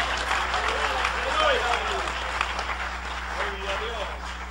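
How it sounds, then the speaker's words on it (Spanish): A church congregation applauds during a Spanish-language worship service. Broad, continuous clapping runs throughout, with voices and a low steady hum underneath. "Dale ese aplauso al Señor."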